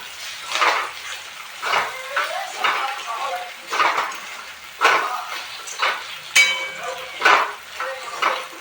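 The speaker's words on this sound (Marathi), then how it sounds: "आपली भेंडी मिक्स करूया" Okra with turmeric and coriander powder is stirred in a pan, with a repeated scraping and clinking of a spatula against the metal in rhythmic strokes, fairly close and loud.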